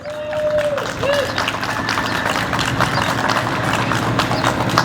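Audience applause at an outdoor Pride flag raising for GSA Day in Carteret, New Jersey, a steady dense clapping that fills the whole stretch at close range, with a brief voice near the start.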